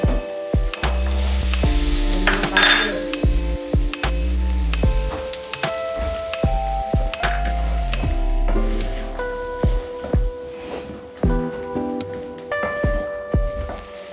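Two cups of green peas go into a pan with carrot for a Kerala-style curry, sizzling close up as a spoon scrapes and stirs in repeated clattering strokes.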